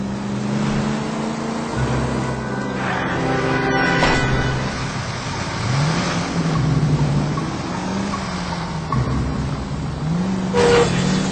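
Engine drone of a car driven in the video game L.A. Noire, steady and loud throughout, rising and falling in pitch as it accelerates and shifts, with a brief sharper noise near the end.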